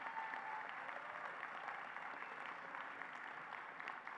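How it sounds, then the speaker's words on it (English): Steady, dense applause from a large crowd at a law school commencement ceremony, continuous and even throughout with no voices standing out. "They deserve a round of applause also."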